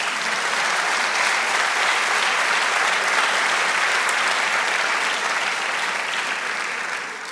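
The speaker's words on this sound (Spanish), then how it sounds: "Denle un aplauso al Señor." A church congregation applauds during a sermon, a dense, steady wash of clapping that holds at full strength for about seven seconds before easing slightly at the end.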